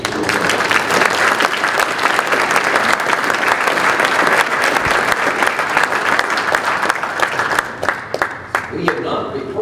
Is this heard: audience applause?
yes